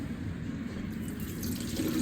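Dirty liquid from a Fiat Panda being poured out, a soft continuous splashing trickle that swells slightly toward the end.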